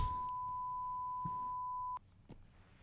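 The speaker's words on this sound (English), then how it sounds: "it's not me beeping it out. That's the show." A steady censor bleep on a podcast runs unbroken for about two seconds at moderate level, then cuts off sharply, leaving a few faint knocks and room noise.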